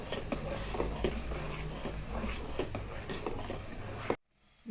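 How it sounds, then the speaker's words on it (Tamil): A spoon stirring thick fenugreek kali in a pot on a low stove flame, giving steady soft scraping and scattered light clinks against the pot, with near-continuous rhythm, and then it stops abruptly at the end. "களியை நல்லா கட்டி சேர விடாமல் கிண்டிக்கிட்டே இருக்கணும்."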